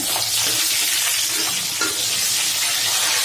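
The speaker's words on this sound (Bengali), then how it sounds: "আমি তেলাপিয়া মাছটা ভাজতে দিয়ে দিচ্ছি, ভাজা হইতেছে।" Tilapia fish frying in hot oil in a pan, a loud, steady sizzle that fills the whole stretch with constant crackling and no voices.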